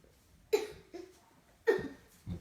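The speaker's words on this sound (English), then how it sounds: "that just sounds like you're coughing." A child coughs twice, close and fairly quiet, each a short hoarse burst about a second apart, followed by a softer breathy sound at the end.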